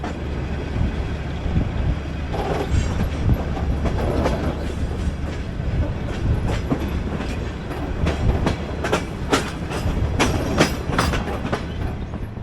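A train rolls steadily along the rails with a constant rumbling roar and recurring clickety-clack beats from the wheels, heard from inside a former Latvian night train travelling through far eastern Kazakhstan.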